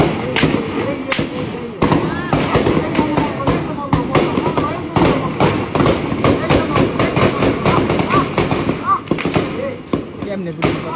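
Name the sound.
gunfire outside Jatrabari police station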